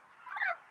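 Dark turkeys on an Alberta turkey farm give a single brief gobble, faint and somewhat distant.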